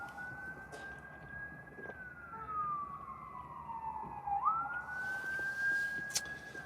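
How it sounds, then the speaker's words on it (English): A police siren wails as it passes outside a house, its rising and falling tone sweeping down in pitch and then climbing again over low background rumble, moderately distant and steady for several seconds. "Got some sirens in the house."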